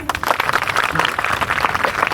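Children applaud loudly together at a government school talent event in Old Dandeli, a dense, steady patter of clapping with no gaps, close and filling the whole moment.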